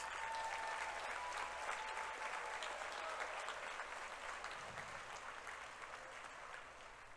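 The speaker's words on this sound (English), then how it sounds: "Can we please give the families of class of 2024 a round of applause?" At a 2024 high school graduation ceremony, the crowd applauds the graduating class's families with broad, sustained clapping that sounds somewhat distant and soft, tapering slightly toward the end.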